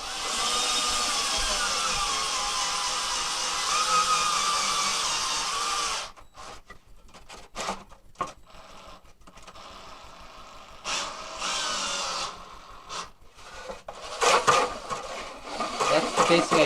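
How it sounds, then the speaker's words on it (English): A power drill spins a 1/4 inch threaded rod into place on an air hose reel build, a steady loud whirring for about six seconds, then short bursts of drilling with pauses between. "I'm going to put my drill on the end of it. And I'm going to just thread that into place."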